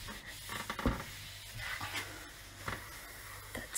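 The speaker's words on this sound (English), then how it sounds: "take a little bit to your cloth and then directly you start wiping it. Just put some force" A cloth is pressed firmly across a stainless steel kitchen cooktop, giving soft, irregular rubbing strokes that sound faint and close, with no voices.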